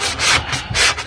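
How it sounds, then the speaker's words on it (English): Rhythmic back-and-forth scratchy rubbing of a sanding sponge across torn drywall paper, three quick close strokes. "I'm going to take a sanding sponge and sand all the little shags off"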